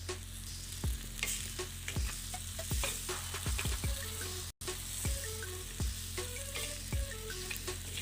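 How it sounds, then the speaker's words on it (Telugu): Prawn curry simmering and sizzling in a pan on the stove, a soft steady fry with occasional scrapes and stirring clicks, close and fairly quiet. "దీన్ని అలా కర్రీ అంతా దగ్గరికి అయ్యేంత వరకు మనం అలాగే స్టవ్ మీద పెట్టుకోవాలన్నమాట"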